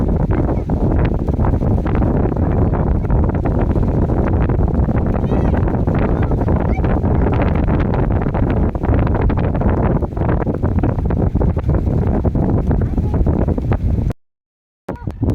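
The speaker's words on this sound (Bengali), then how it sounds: "বাতাস।" Strong wind buffets the microphone on a small boat out on open water, a loud continuous roar that cuts out abruptly near the end.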